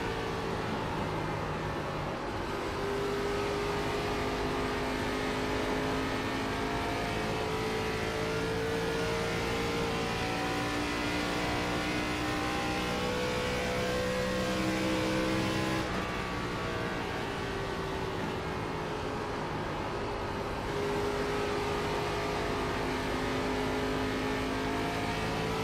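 NASCAR race cars racing at Homestead-Miami, heard from inside a car: a loud, continuous engine drone that rises and falls in pitch through gear changes, with other cars close by in a pack and no talking.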